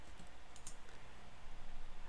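Soft keyboard clicks as a number is typed into Pointwise CAD software to set an arc angle, a few quick faint taps near the middle and end under a low room hum.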